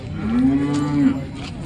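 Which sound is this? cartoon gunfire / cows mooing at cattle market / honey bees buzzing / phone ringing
cows mooing at cattle market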